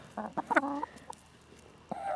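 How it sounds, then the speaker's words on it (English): Chickens cluck nearby in short, lively bursts. A busy cluster comes early, then a pause, then another cluck near the end, with no talking. "They like to think that they're wild chickens, range birds, don't ya?"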